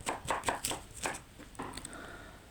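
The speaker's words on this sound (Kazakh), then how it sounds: "Яғни бізге керегі пиязды осылай майдалап" A knife dices onion on a cutting board for a cheese soup, a quick series of sharp, close chopping taps in uneven bursts with a short pause before more cutting.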